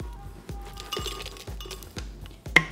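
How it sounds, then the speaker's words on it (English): A hammer strikes ice cubes six times at an even pace, each a sharp near crack with glassy clinks. "just give them a quick little hit with the hammer first"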